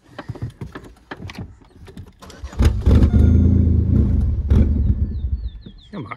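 A Jeep engine cranks in short bursts, then catches and revs loudly for a few seconds before easing off, with a voice speaking briefly near the start and end.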